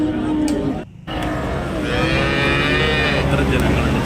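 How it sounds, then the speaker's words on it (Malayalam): Cattle and calves at a busy livestock market bellow in a loud, close, drawn-out moo, with crowd noise around them and a brief drop-out partway through. "ചെറിയ പശുക്കുട്ടികളുണ്ട്"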